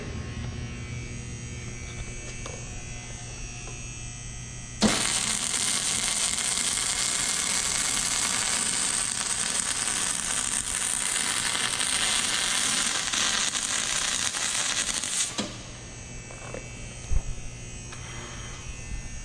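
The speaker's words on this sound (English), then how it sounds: "Hey, so we're gonna weld this up right here." Metal welding on a Boston Whaler boat: a steady, loud electric buzz with crackling sizzle runs unbroken for about ten seconds, then cuts off, leaving quieter background hum.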